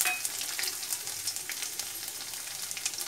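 Chopped garlic and dried red chillies, snipped into small pieces, fry in hot oil with a busy close sizzle full of rapid crackles and spitting pops, steady and alone.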